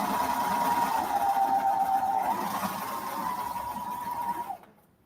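A serger runs steadily on non-stretch board short fabric, stitching a seam with a continuous close mechanical whir that holds for about four and a half seconds before stopping abruptly.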